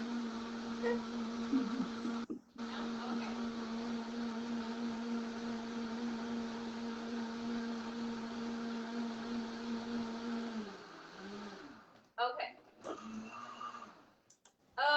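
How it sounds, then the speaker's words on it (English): Kitchen blender running close and loud as a steady whirring drone, then slowing and stopping, followed by a few clicks and brief motor pulses. "Okay, I'm going to blend this."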